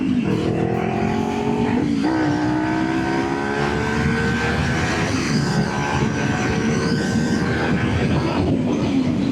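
A motorcycle ridden at speed and then coasting with the clutch in, engine tone sliding down steadily under constant loud wind roar, with no voices.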